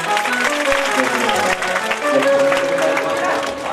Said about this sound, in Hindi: मैं चाहता हूं तीनों यजमानों के लिए भी ताली बजाएं।